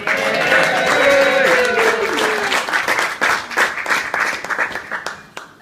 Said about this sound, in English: I think she deserves a massive round of applause.